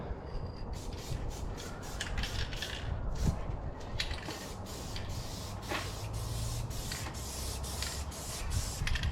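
A steady hiss from a spray can nozzle held at an awkward angle, running continuously for several seconds at close range, with faint clicks and rustling underneath and no talking.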